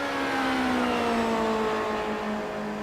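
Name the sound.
race car engine revving in iRacing video game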